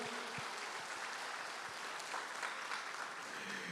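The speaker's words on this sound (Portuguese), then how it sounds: "Vamos dar um aplauso bem forte para o Senhor." A church congregation applauding during a sermon, steady broadband clapping from many hands filling the space at a fairly soft level, continuous from start to finish.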